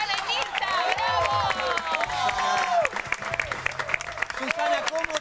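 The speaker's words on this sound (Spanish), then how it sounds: "Vamos así ahora a darles un aplauso." A television studio audience claps and cheers to welcome guests, loud dense applause with whoops and shouts, while a host's voice and music run over the top throughout.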